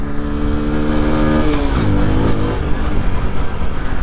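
A 1997 Honda C50 motorcycle engine running steadily close by, its tone dropping and settling as it shifts into second gear about midway, then carrying on at a lower pitch.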